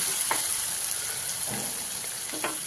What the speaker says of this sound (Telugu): గ్రైండ్ చేసుకున్న మసాలా పేస్ట్ని కూడా వేసి కలుపుతూ వేయించుకోవాలి